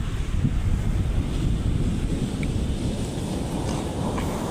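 Large waves driven by Typhoon Kristine crash onto the shore at Calintaan, Occidental Mindoro, a loud, continuous roar of surf mixed with heavy wind buffeting the microphone, with no talking.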